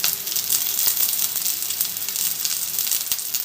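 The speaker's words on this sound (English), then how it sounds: "So you have to fry small onions along with the curry leaves" Small onions and curry leaves fry in hot oil, giving a steady crackling sizzle with bright spitting pops, close and continuous, with no talk.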